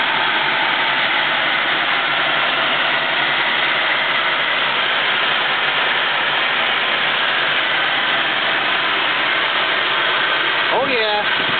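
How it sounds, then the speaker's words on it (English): The 292 cubic inch V12 of a 1941 Lincoln Continental Series 16H coupe idles with a steady, even drone, loud and constant throughout, with a short voice near the end. "292 cubic inch V12 engine. About 40 horsepower."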